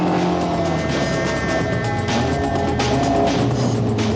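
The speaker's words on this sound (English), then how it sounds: "And what better than a quick-footed Westfield" A Westfield 1800 rear-wheel-drive sports car drives hard, its engine note loud and close and rising and falling with revs, with a brief hint of tyre noise.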